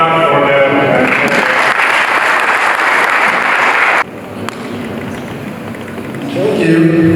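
Dense crowd applause rolls through a career event on logistics and supply chain management at Huye Intare. It is loud and steady, then drops suddenly to a thinner, quieter patter before swelling again at the end.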